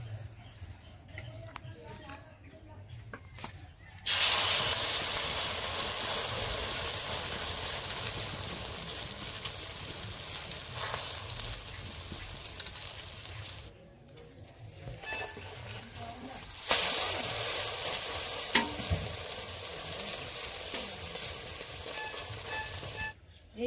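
Chicken omelette frying in a pan gives off a soft, hissing sizzle that swells and fades in long stretches, with quiet voices and kitchen sounds mixed in.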